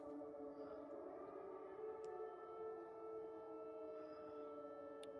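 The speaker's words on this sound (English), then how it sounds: "Oh, we got another video showing sirens going off here." Air raid sirens wail continuously in a wartime news report from Iran, several overlapping steady tones holding a long sustained drone at moderate distance, with faint background noise and no talking.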